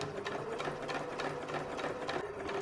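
A sewing machine stitches through quilted fabric, its needle driving a fast, steady mechanical chatter with a constant motor hum, close and uninterrupted, with no voices.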